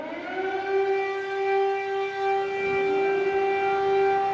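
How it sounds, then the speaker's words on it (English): A loud air raid siren in Ukraine wails steadily, holding one rising-and-falling tone with strong harmonics throughout, alone with no talking. "So there's the siren."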